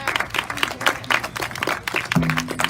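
A small audience at a community meeting claps in scattered, uneven bursts, moderately loud, with a short voice-like tone near the end.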